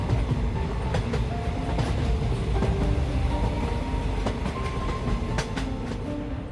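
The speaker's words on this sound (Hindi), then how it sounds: "तभी वहाँ एक ट्रेन आकर रुकती है" A train rolls into a station in a steady low rumble with faint clicks of wheels on rail joints and a metallic squeal near the end, heard close and continuous with no voices.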